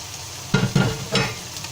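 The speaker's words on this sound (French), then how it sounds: "On va juste les faire revenir, à les saisir sur les côtés." Beef shanks searing in a hot pan while osso buco is prepared, giving a steady close sizzle with a few louder bursts as the meat is turned and shifted.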